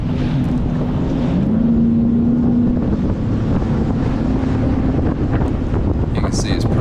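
Strong wind buffets the microphone on a choppy lake as bass boats sit waiting before a tournament blast-off, with a steady low outboard engine drone running under the loud, continuous gusting.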